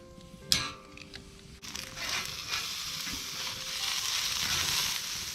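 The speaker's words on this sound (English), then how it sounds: "A little sizzle isn't bad." Chicken skin sizzling in a pan over a campfire at a lakeside state park: a steady crackling fry with a sharp clatter early on, fairly close and continuous, no talk.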